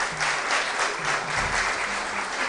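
Steady applause from an audience at a school quiz competition, a dense, even patter of many hands clapping at moderate volume throughout, with no talk over it.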